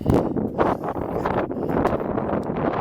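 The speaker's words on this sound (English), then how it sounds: "Here comes the wind." Wind gusts across an open mesa near Abiquiu, New Mexico, buffeting the microphone in a steady broadband roar with stronger surges, loud and close, with no voices.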